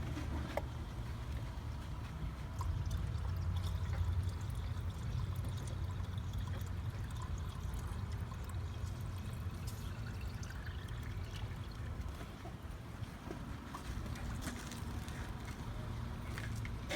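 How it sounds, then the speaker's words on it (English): Coolant topping up the radiator system of a 2006 Ford F-250 with the 6.0 engine, a steady pour and trickle of liquid running continuously and fairly close, with no talk over it. "here we top up our coolant all the way."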